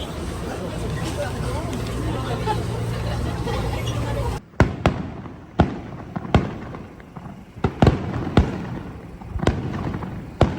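Festival fireworks go off near a train station in Japan: a dense crowd hubbub gives way to a run of sharp, loud bangs and thuds, about eight separate blasts at uneven intervals, with some background noise between them.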